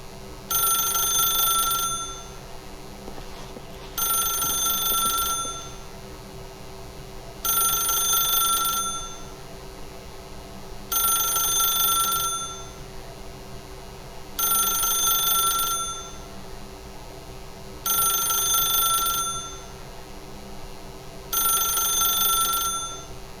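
A telephone rings in the video game The Stanley Parable, six evenly spaced electronic ring bursts with short gaps, loud and clear with nothing else heard.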